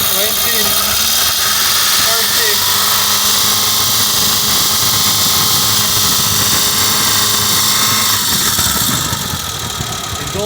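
A Suzuki Samurai engine running loud and close, a dense steady roar that rises slightly as throttle is added, with a faint brief drop near the end; no clear speech.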